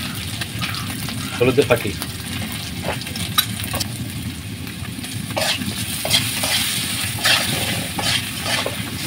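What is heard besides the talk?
small round potatoes frying in a pan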